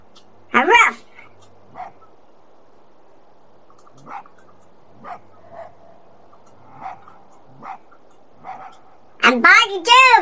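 A fox in the video game Spirit of the North gives a few sharp yipping barks at the start and end, with a voice speaking in scattered bursts between them.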